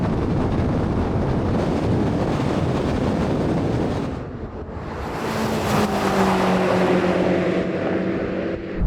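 BMW M5 cars of the G90, F90 and F10 generations accelerating hard side by side in a drag race, a loud sustained roar with rising engine tones through gear changes and heavy wind buffeting on the microphone.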